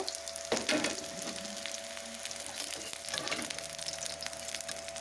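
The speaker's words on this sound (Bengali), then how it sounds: "এখন পনিরটা আমি ফ্রাই করে নেব" Paneer fries in a pan with a continuous moderate sizzle. Two brief bursts of movement and scraping, near the start and at about three seconds, suggest the pieces being added or turned. No one speaks.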